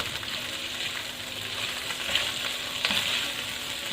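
Chopped mushrooms hit a pan of already fried chicken, raising a steady soft sizzle with a couple of brief clinks and stirring scrapes, close and moderately quiet, with no talking.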